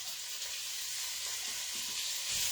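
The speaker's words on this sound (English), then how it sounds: "You could hear that sizzle" Finely chopped white onion sizzles in hot fat in a soup pot, a steady, close, bright crackling hiss that runs on without a break and with no voices.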